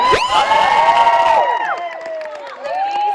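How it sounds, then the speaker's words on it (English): At a comic convention panel, the audience bursts into loud cheering, whoops and applause, fading after a second and a half while a voice carries on. "Give a round of applause."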